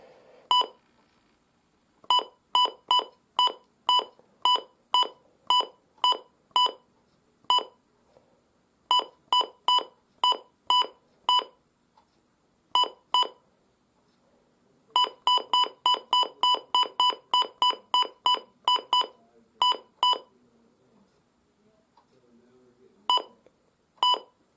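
A Midland WR-300 all-hazards weather radio sounds a loud alert, sharp electronic beeps in rapid bursts and runs with short gaps, close and alone.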